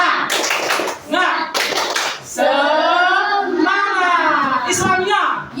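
Students in a classroom perform the tepuk semangat cheer, with two loud bursts of patterned clapping followed by children chanting together, voices prominent over the claps.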